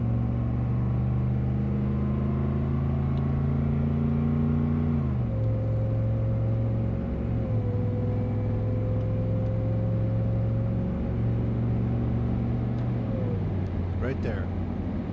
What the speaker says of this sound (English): it's a full pedal run, up to 70 miles an hour